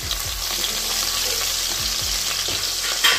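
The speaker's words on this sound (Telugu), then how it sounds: "ఆయిల్ వేడైంది, కొంచెం జీలకర్ర వేసుకుందాం." Cumin seeds sizzle in hot oil in a pan for an Indian methi chaman dish, a loud, steady crackling fry heard up close with a few soft stirring knocks.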